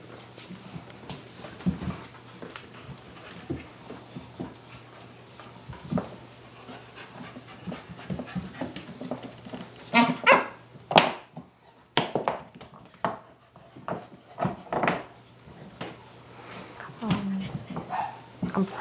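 Puppies pant and scuffle nearby, letting out occasional yips, whimpers and short barks as they play, with some faint voices in the background.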